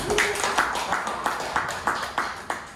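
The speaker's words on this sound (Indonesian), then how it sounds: "Tepuk tangan dulu dong." Audience claps at a women's entrepreneurship event on innovation in Pekanbaru, with distinct, evenly spaced claps forming a steady rhythm at moderate loudness.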